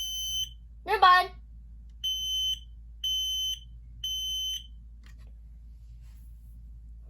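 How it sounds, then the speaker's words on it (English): A Kidde P3010L living room smoke alarm sounds four sharp, piercing electronic beeps in a steady one-per-second rhythm, indoors and close, after a brief spoken word, then falls silent. "Now we have the Kidda P3010L. So this is the living room worry-free smoke alarm."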